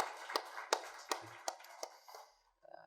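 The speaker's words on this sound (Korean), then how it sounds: "귀한 찬양 인도한 찬양단위와에서 격려의 박수하도록 하겠습니다." A church evening-service congregation claps for the worship team in a short, evenly paced run of about seven sharp claps that fades out, followed by a brief faint sound.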